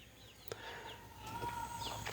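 Hens in a backyard flock, including a small barnyard mix hen, cluck and chirp softly in short broken calls, some distance away, over steady outdoor background noise.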